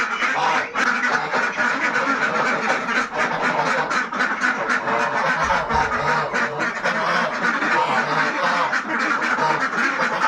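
A dense flock of ducks and geese quacking loudly and continuously, many voices overlapping close by, heading to a river.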